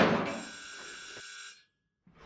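A telephone bell rings loudly in a tense short-film scene, a bright sustained trill that fades out after about a second and a half, followed by near silence.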